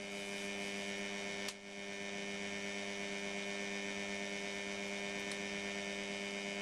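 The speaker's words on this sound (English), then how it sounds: "Now we'll restart the motor." Turntable motor running steadily, a constant electric hum with a brief click near the start and otherwise unchanging, close and without speech.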